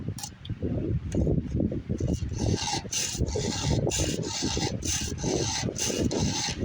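A file rasps steadily along a chainsaw chain to sharpen it, a rapid run of close, rhythmic scraping strokes with no pauses.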